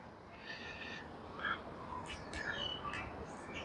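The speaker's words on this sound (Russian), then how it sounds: "Слышите, как птички поют?" Small birds chirp and trill outside a balcony, several short, faint calls scattered over a soft outdoor hiss, heard from some distance.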